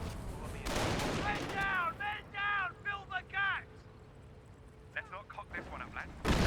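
Artillery fire in Company of Heroes 1: heavy booming blasts land early and again at the very end, with a commentator's voice talking over the rumbling battlefield in between.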